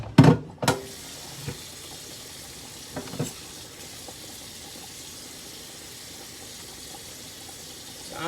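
Hands are rinsed under a running kitchen tap, with steady soft water hiss and a few sharp splashes and clatters near the start, then continuous, close flow with no talking.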